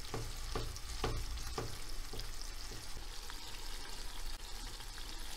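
Onions and a teaspoon of pepper paste sizzle steadily in a pan, a dense continuous frying hiss with a few soft scraping stir strokes near the start.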